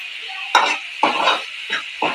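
A spoon stirs red chutney into a boiling tomato and tamarind mixture, with four or five scraping strokes against the pot over a steady bubbling sizzle, close and clear.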